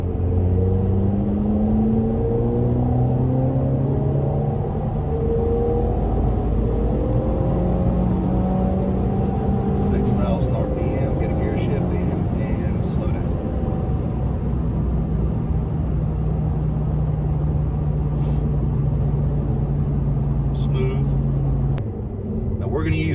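A tuned Ford EcoBoost car pulling hard from 2,500 RPM in second gear, a steady loud engine drone rising in pitch with road rumble and wind, heard from inside the cabin while a person talks.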